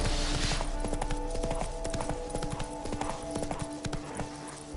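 Roach, Geralt's horse in The Witcher 3, trots along with a steady, close clip-clop of hooves, rhythmic and continuous, over a low game ambience.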